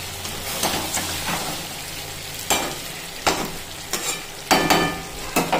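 Chicken kosha cooking in a pan with a low, continuous sizzle. Scattered scraping stirs and clanks break through now and then, close by and without talk.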